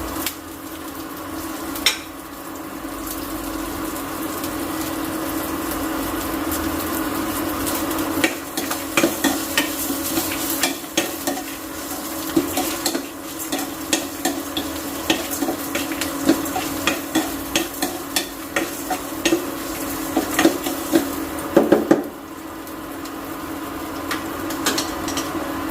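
Ginger, green chillies and curry leaves fry in hot oil while a spoon stirs and scrapes the pan, a steady sizzle with irregular clinks and taps close by throughout.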